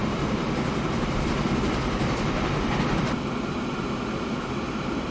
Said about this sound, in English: let's just see how much our little train has made on this awesome trip here